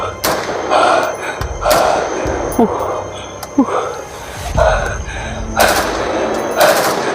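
Out among trees near dusk, gunfire bursts in a ragged sequence of about eight heavy bangs, some single and some in quick pairs, echoing loudly with a faint murmur of voices in the background.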